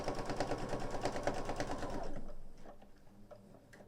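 A sewing machine stitches quilt fabric in a quick, steady mechanical rhythm for about two seconds, then stops, leaving faint handling clicks and taps.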